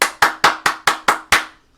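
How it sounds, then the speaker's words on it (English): Seven sharp hand claps in a steady, even rhythm, each a crisp close slap that decays quickly, sounding alone with no talking. "I give them a hand clap for that"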